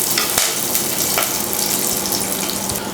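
Sliced onion, slit green chillies and curry leaves fry in hot coconut oil for a Kerala okra curry, giving a continuous, fairly loud, even crackling hiss with a few faint ticks and no talking.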